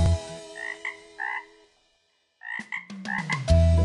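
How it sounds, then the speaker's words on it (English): A little green frog croaking in a children's farm song, short repeated two-tone croaks in bursts, a pause of silence, then faster croaks over a thumping musical beat. "Went the little green frog one day"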